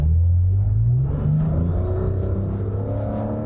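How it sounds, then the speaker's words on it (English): A 2020 Lexus RX engine revs under hard acceleration, a loud low rising drone that climbs in pitch, shifts, and settles into a steady, close cabin rumble. "That was a really interesting noise that this car made when I put my foot down"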